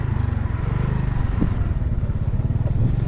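A Honda Navi motorcycle rides off-road, its small engine giving a steady, loud low drone with a rapid pulsing beat, plus faint clatter and scrapes from the terrain throughout.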